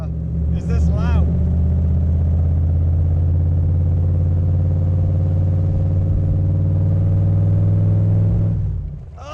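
A loud 1965 Shelby Cobra engine idles steadily at close range with a deep, throbbing rumble that holds for several seconds before cutting off, a brief clatter sounding just before it.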